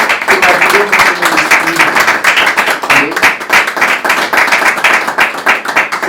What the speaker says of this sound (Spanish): Dan un fuerte aplauso al Señor en esta mañana